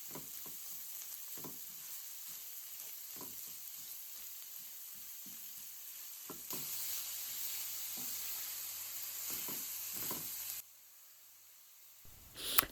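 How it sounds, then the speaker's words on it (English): Lamb mince frying in oil with cumin seeds, a steady close sizzle broken by scattered stirring taps and scrapes, getting louder partway through before suddenly dropping to a faint hiss. "I am going to fry the mince."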